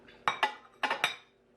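A metal pot lid clanks against a pot while lasagna is being cooked: two quick pairs of bright metallic clinks, close and distinct, with a short pause between the pairs.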